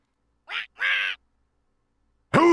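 A gruff-voiced duck character in the Dread Weight video game quacks in short, separate bursts with silent gaps, two close together and another near the end, loud and close with no talk.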